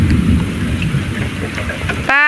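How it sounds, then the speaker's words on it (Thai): Heavy rain falls in a steady, loud, hissing wash that cuts off abruptly near the end, where a brief tonal sound takes over. "ฝนกำลังตกตอนนี้"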